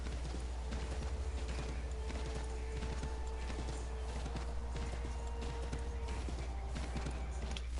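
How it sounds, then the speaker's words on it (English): A horse in Assassin's Creed III clip-clops along at a steady trot, with rhythmic hoofbeats and faint creaking over a low rumble, fairly quiet overall. "Why am I riding my horse through this?"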